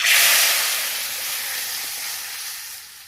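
Dal sizzles loudly as it hits a hot pan of jute greens tempered with whole cumin, a bright steady hiss that peaks at the start and settles into a continuous frying crackle.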